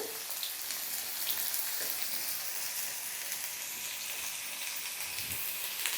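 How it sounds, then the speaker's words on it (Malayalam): Finely chopped onion sautéing in oil in a pan, giving a faint, steady hiss and soft sizzle with occasional small pops, heard alone without voices. "സവോള ഒന്ന് ചേർത്ത് കൊടുത്ത് ഒന്ന് ഈ എണ്ണയിൽ അത്യാവശ്യം ഒന്ന് വഴറ്റിയെടുക്കാം"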